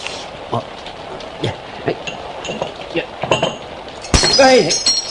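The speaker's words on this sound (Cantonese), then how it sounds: "哎呀，手震，打爛隻茶杯添" A sharp crash of a teacup breaking near the end, after steady rain patter with brief voice-like sounds scattered through it.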